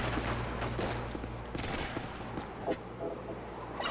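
Sustained gunfire rattles against a sentry gun during Special Ops Survival on the Outpost map in Call of Duty Modern Warfare 3, a dense, steady fusillade that runs throughout with a sharper burst at the very end.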